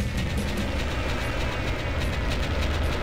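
A train rumbles past in the tank video game Tanks, a steady, loud broadband roar with a rolling low-end rumble and faint rhythmic clatter, continuous and close throughout.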